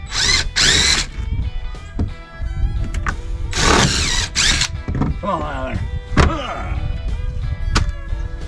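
A power drill driving screws, its motor whirring in several loud bursts that rise and fall with short pauses, while someone talks between them.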